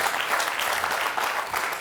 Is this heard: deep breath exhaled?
no